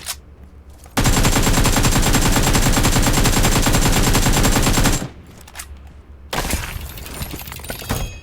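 An AKM rifle fires in PUBG Mobile as a long, loud, rapid automatic burst of about four seconds, then a brief pause and a second stretch of shots and clatter.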